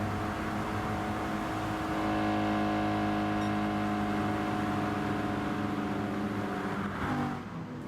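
Group 2 race cars from a racing video game roar past in a dense, sustained engine drone with steady harmonic tones, loud throughout and briefly shifting near the end as they leave a tunnel into daylight.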